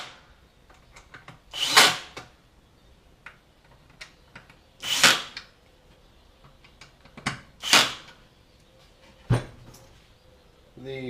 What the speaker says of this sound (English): Use your drill, get them snug,